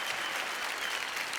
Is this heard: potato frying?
no